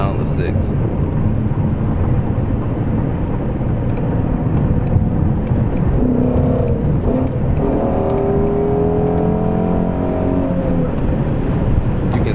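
A Ford Mustang GT350 with a manual transmission drives through gear changes, its engine a steady, loud drone over road noise, with clear rising engine tones surfacing in the second half.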